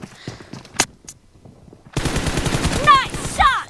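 Groza assault rifle bursts in PUBG Mobile, a fast rattling stream of shots after a couple of isolated earlier cracks, loud and close, with ricochet-like whines near the end.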